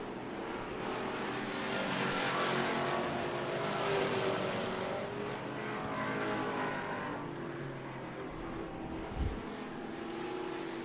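Pro stock race cars circling Tucson Speedway in a steady, loud engine roar that swells and fades as the pack passes, with a brief sharp thump near the end.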